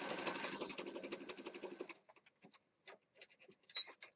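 Sewing machine stitching pages of a junk journal, a fast buzzing run of stitches for about two seconds before stopping, followed by scattered soft handling clicks and taps.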